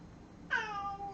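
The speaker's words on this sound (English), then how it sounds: "Meow." A cat gives a single clear meow that rises and then trails off, close and moderately loud over a faint background hum.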